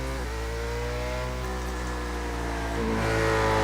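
Corvette C7 race car engine in the iRacing video game, a steady droning tone with layered harmonics that rises slightly in pitch and grows louder near the end, heard alone.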